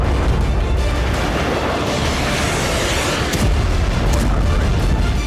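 Explosion at a military base in the Negev desert, heard as a sustained, loud, broadband rumble with low boom energy and noisy crackling, without clear speech.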